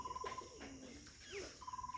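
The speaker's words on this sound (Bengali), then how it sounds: "ওই যে ভিতরে বুড়ো কবুতরে ডাকতেছে বাংলা কবুতরে" An old Bangla pigeon coos inside a loft, a few soft rolling calls at moderate distance with faint background noise and no talk.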